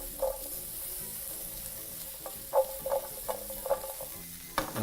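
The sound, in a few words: tossing food with butter and cayenne in a frying pan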